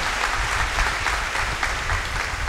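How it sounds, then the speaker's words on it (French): A church congregation at a thanksgiving Mass applauds loudly, a dense and steady clapping from the whole crowd. "On s'acclame encore très très fort"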